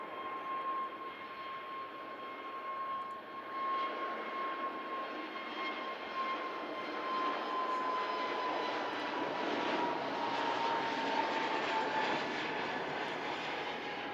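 An EasyJet Airbus A320neo's jet engines hold a steady whine with a clear high tone, rising gently in loudness as the airliner sits at the runway edge at Manchester, with no voices.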